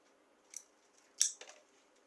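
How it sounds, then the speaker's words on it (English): Scissors snip colorful plastic straws into small bits: three crisp, close cuts, one early and two in quick succession about a second later, against a quiet background with no talk. "Cut colorful straws into small bits"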